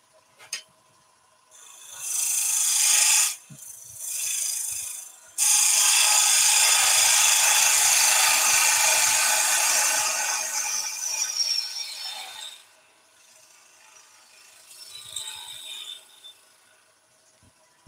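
A bowl gouge cutting on a wood lathe gives bursts of bright scraping and hissing that start and stop, with one long steady cut in the middle and fainter touches toward the end.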